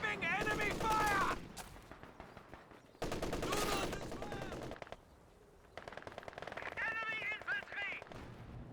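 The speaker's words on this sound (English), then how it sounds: "Receiving enemy fire!" Automatic gunfire from a Company of Heroes 2 battle rattles in loud, dense bursts separated by short lulls, with shouted unit voice lines over the shooting.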